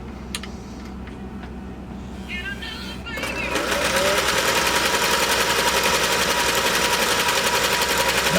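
Singer sewing machine with a top hat cam stitching steadily, a loud continuous mechanical whir with rapid needle clatter that starts after a quieter opening and runs evenly to the end.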